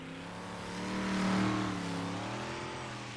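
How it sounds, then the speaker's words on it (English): Big Block Modified race cars at a dirt track heard as a loud, steady engine roar that swells to a peak near the middle as cars rip around the outside, then eases slightly, with no talk. "Around the outside, the Big Block Modifieds ripping it up."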